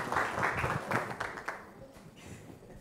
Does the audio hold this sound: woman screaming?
no